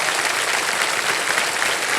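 A television quiz show studio audience claps in a dense, steady burst of applause, loud and continuous with no talk over it.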